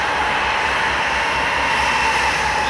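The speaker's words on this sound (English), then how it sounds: "Oh, he's revving it up." Diesel locomotive engine revving up, a loud, steady, broadband roar and drone close by, sustained throughout without talk.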